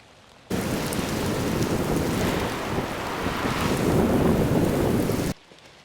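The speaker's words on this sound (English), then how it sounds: "it is absolutely downpouring right now, and it just lightninged" Heavy rain pours down on the woods during a thunderstorm, a loud, steady roar of falling water that surges slightly toward the end before cutting off abruptly.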